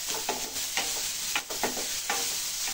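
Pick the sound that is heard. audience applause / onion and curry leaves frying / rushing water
onion and curry leaves frying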